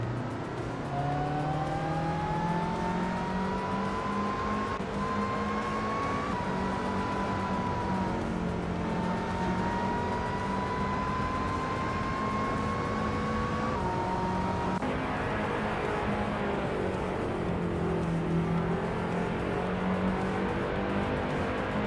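Skip Barber race cars in a racing video game at the Villarreal track, engines droning and revving steadily with gear shifts changing pitch, several cars running close together, loud and continuous.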